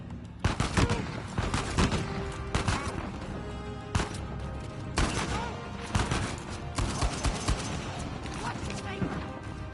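Uncharted 4 video game gunfire crackles in rapid bursts and scattered single shots, loud and close, with pauses between volleys and a voice talking over the action.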